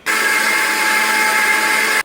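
A mixer grinder whirs loudly and evenly while grinding corn with water, a steady motor drone that starts and stops sharply across about two seconds.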